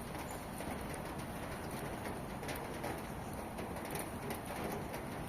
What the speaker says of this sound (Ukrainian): А як пташки радіють